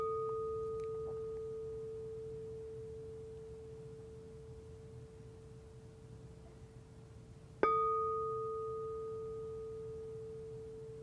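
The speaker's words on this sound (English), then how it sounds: "So if you have never heard of singing bowl, I brought ours just because they're so lovely." A singing bowl struck twice, each strike a clear sustained ringing tone that slowly fades, the second strike sharp and louder midway, in a quiet room.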